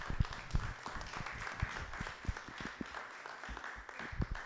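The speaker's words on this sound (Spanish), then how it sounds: "Denle un aplauso fuerte al Señor" Church congregation clapping together at the close of a service, a fairly faint and distant spread of claps with a low rumble beneath, steady and continuous across the whole stretch.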